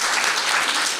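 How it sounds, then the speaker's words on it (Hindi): An audience at a spiritual class bursts into continuous, dense clapping, a loud and even wash of applause with no break. "ताली तो बजाओ"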